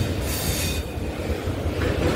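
Harbour line local train in Mumbai running along the tracks, a steady loud rumble of wheels and carriages with faint squealing, close and continuous with no talk.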